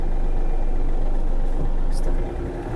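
Yanmar AF-333 mini tractor with a cab, its small engine running as a loud, steady low rumble that drops slightly near the end.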